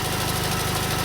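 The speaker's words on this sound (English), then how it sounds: "so far it sounds exactly the same. Like an up-spec lawnmower." A small engine runs steadily with a lawnmower-like buzzing drone and fast regular pulsing, loud and close with no pauses.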